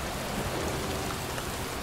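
Pouring rain fills a cemetery in Heavy Rain, a dense, even wash of downpour with no breaks or voices.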